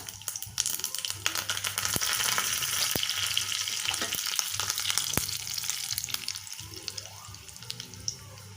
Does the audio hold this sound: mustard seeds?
yes